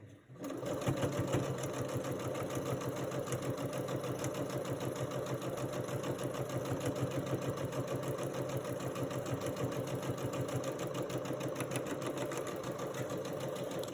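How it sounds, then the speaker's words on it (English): A sewing machine stitches quilt pieces together with a steady, rapid, continuous whirring clatter that stays even and close throughout, running alone without pauses. "we're just going to give these a quick sew"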